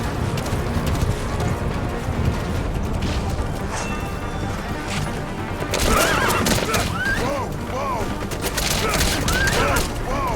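A horse whinnies several times in Metal Gear Solid V, the rising, falling cries standing out clearly over a loud, dense backdrop of gunfire, crashes and game noise, with voices mixed in.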